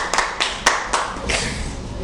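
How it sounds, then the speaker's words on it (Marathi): Several sharp claps ring out in a classroom, a few distinct slaps followed by a brief smattering of applause from students, fairly close and moderately loud. "टाळ्या वाजवा रे."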